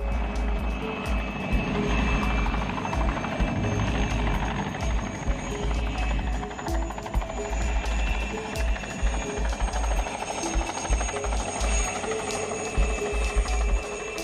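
Mil Mi-2 helicopter, a loud continuous rotor chop and whining turbine drone sustained throughout with no voices.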